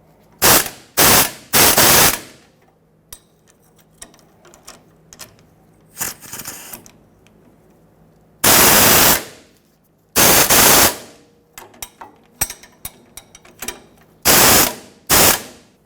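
Socket ratchets tighten the tie rod sleeve clamp bolts on a 2000-2005 Ford Excursion during an inner tie rod replacement. Several loud, close bursts of rapid clicking come one after another, separated by short pauses.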